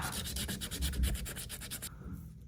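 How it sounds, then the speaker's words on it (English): Sandpaper rubbed briskly back and forth over a copper pipe connection during a heating coil installation, a rapid run of about fifteen close, rasping strokes that stops abruptly, with no talking. "Now to hook up the copper connections, gonna sand this down really good."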